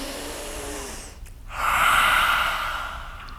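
A deep yoga breath taken in reverse table pose during a vinyasa flow: a soft airy inhale, then a fuller, steady rushing breath swelling for about two seconds, close and alone with no talking.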